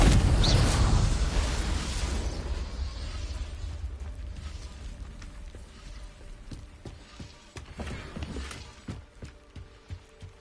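A Confringo blasting spell explodes in the video game Hogwarts Legacy, a heavy booming burst up front that rumbles and decays over several seconds, followed by scattered smaller impacts and debris clatter.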